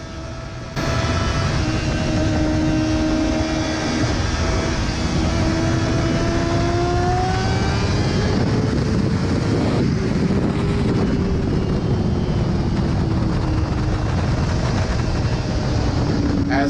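A motorcycle out on the ThunderHill West race track in an A-group session gives a loud, sustained engine drone whose pitch sweeps up and down with wind rush over the microphone, with no talking.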